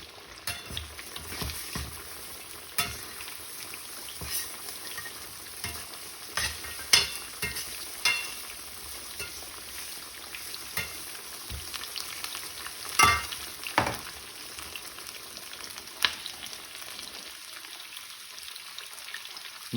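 Breaded Wiener schnitzel frying in hot oil, a steady close sizzle with scattered sharp pops and crackles throughout, quieting toward the end, with no voices.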